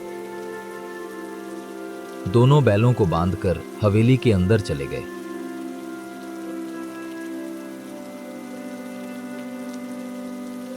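Steady rain patters throughout, with a voice speaking over it for a few seconds in the middle.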